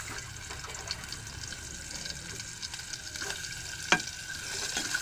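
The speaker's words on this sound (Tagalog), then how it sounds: "nagpainit na po tayo ng mantika. Siyempre, ang unang gigisa po natin ay ang ating sibuyas." Chopped onion sautéing in hot cooking oil in a home kitchen, a steady close sizzle with stirring clatter and one sharp scrape near the end, no voices.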